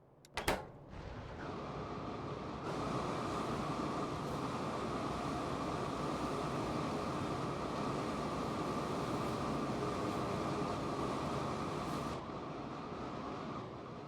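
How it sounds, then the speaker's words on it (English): Trains in the Factorio video game, in a Pyanodon's hard mode playthrough, run as a steady mechanical rumble and rolling hum with a sharp click at the start, continuous and moderately quiet throughout. "This train is just taking a long time to unload"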